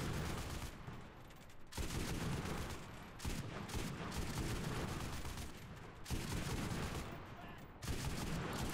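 Gunfire in a Pacific War video game, where the player shoots at random: dense, continuous bursts of shots fill the clip, broken by a few short gaps, with faint voices underneath.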